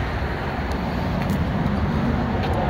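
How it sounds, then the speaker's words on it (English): Steady road noise from passing traffic fills the air, a broad continuous rumble and hiss of cars going by nearby, fairly loud, with a few faint high squeaks and no clear speech. "Sorry about the road noise."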